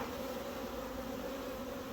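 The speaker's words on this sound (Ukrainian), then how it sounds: "Вже ось бджолка" Honey bees buzz steadily around a newly arrived package hive with brood frames, a close, continuous drone with no voices.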